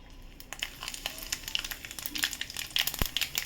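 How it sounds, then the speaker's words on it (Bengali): Black cumin seeds crackle and pop in hot oil in a wok where fish has just been fried, giving a busy run of small sharp sizzles and snaps close by with no talking. "এই কড়াইয়ের মধ্যে আমি কালো জিরে ফোড়ন দিয়ে দেবো"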